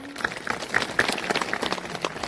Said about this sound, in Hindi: सब एक बार तालियां बजाएंगे आप